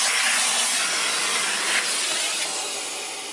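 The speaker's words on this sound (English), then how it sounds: "I'm using my central vac and its own dusting brush" A central vacuum with its own dusting brush gives a loud, airy hiss of steady suction at close range, easing slightly as it runs and then fading gradually toward the end.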